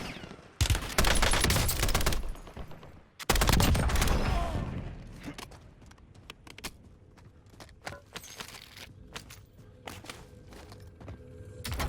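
Bursts of gunfire in the battle royale game Warzone, two dense loud volleys in the first few seconds followed by scattered, fainter shots and clatter.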